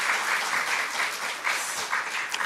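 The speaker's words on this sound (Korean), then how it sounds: "우리 그런 영광 받으신 하나님을 생각하며 함께 박수하겠습니다." A church congregation applauds together after a hymn, a dense, even wash of many hands clapping at close range, holding steady throughout the brief moment.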